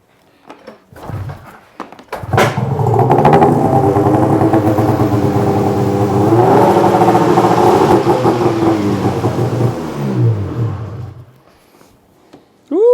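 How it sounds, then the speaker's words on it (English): A snowmobile engine, checked during track alignment, cranks and catches, then runs loud and close at a steady idle for about nine seconds with slight rises in pitch before cutting off. "So when you're done that, you start the sled and run it."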